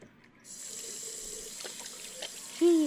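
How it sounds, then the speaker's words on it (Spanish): A water tap gushes in the video game Captain Spirit, a steady splashing flow into a sink after a brief quiet start, with a short voice near the end. "Grifo."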